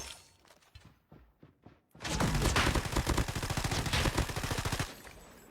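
Video game gunfire, including a sniper, begins with a few scattered shots, then turns into dense rapid bursts of loud crackling fire that continue for several seconds before tapering off.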